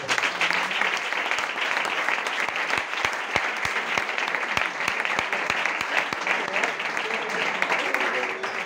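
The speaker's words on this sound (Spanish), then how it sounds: "Un fuerte aplauso, por favor." Sustained applause from a church congregation during a Bible study session, dense and steady throughout with a few sharper individual claps standing out near the front.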